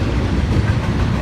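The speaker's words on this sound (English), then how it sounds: "2 racing trains!" Two freight trains racing past at close range in Cornelia, Georgia, a loud steady rumble of rolling cars with rhythmic wheel clatter and no pauses.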